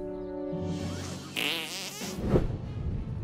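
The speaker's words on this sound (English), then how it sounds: "Did I just fart, or was I just thinking about farting?" A drawn-out buzzing fart sound from the South Park: The Stick of Truth video game, with wobbling low tones rising into a noisy sputter, close and fairly loud, alone without talk.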